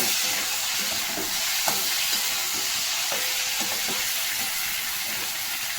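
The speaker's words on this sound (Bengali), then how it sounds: "আমি সবজিটাকে আগে সব কিছু দিয়ে সুন্দর করে কষে নেব।" Vegetables with pumpkin, potato, beans and tomato sizzle steadily in a hot pan, with a bright frying hiss and occasional scraping stirs and clinks of the spatula, fairly close.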